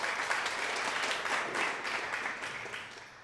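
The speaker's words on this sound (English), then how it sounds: "Give yourself a big round of applause" An audience breaks into dense, sustained applause, a steady wash of many hands clapping that fades slightly near the end.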